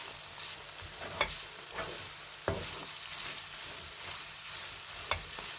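A spoon stirs and mixes a sizzling keema mixture in a hot pan, with scraping strokes and a few sharp clinks against the metal over a steady frying crackle, close and moderately loud, no talking.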